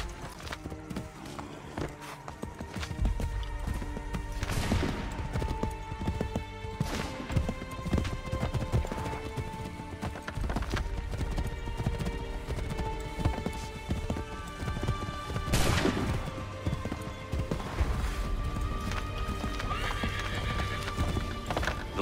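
In the video game Assassin's Creed III, a horse gallops at a steady clip-clop pace with snorts and whinnies, over continuous music.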